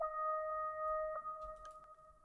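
A synth lead played without an EQ cutting its highs, a single sustained tone held steadily and quiet, with brief faint clicks near the end.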